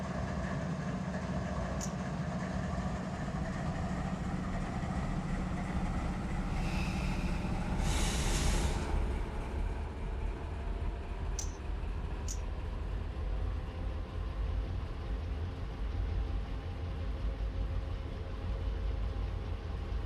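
Freight train locomotives pulling forward in Run 8 Train Simulator, a steady low engine rumble and rolling rail noise throughout, with a brief higher hiss midway and a couple of faint clicks.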